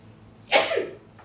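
A single sharp human sneeze, brief and close, rising out of a quiet background and fading quickly.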